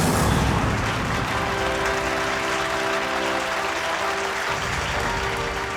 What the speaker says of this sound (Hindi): ऑडियंस इसलिए तालियां बजा रही है